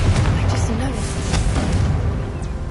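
Explosive Confringo spell blasts in Hogwarts Legacy, rumbling booms and bursts layered with game sound and a voice talking over them throughout.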